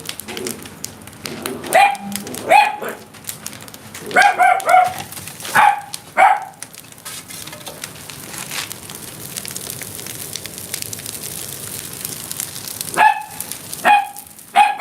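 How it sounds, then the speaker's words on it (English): A dog barks in short bursts of two or three sharp woofs beside a wood-fired kiln, pausing between them, with a long quiet stretch before a final pair of barks. "what are you barking at, buddy?"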